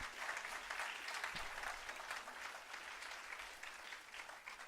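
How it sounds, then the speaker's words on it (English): Steady applause from an audience at a sapling distribution event held at a school, continuous clapping at moderate distance with no voices over it. "I think we need to give them a big round of applause"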